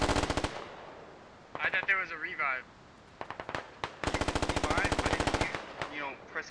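In the Squad video game, loud automatic gunfire comes in rapid bursts, with long chattering volleys split by short pauses and scattered single shots, while a commentator talks between and over the shooting.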